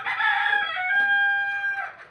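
A rooster crows one long, loud, drawn-out call close by at an Egyptian Fayoumi chicken farm, with faint clucking of laying hens beneath it.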